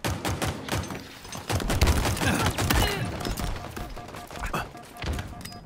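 Rapid bursts of shotgun fire in Halo Infinite, heavy booming shots one after another over a dense, noisy battle mix.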